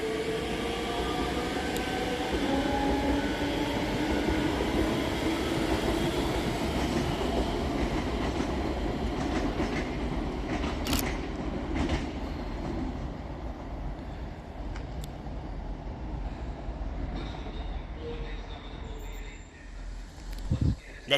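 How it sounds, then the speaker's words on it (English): Scotrail train 385119, the Waverley to Dunblane service, pulls out of Edinburgh Haymarket station with a steady low rumble and rolling wheel noise, a sharp squeal and clicks over the rails, holding close and loud throughout. "Next out to depart is 385119, with the 1853 Scotrail service from Edinburgh Waverley to Dunblane"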